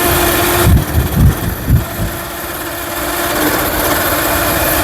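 A car alternator rigged as a bicycle motor whines steadily, then several pulsing low surges come in quick succession before the drive cuts out and leaves a duller hum.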